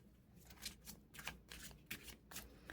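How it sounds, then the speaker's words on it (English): Tarot cards from a deck being shuffled and pulled, a run of crisp papery riffles and flicks coming in several bursts, close and fairly quiet, with no talking. "let's pull your other cards."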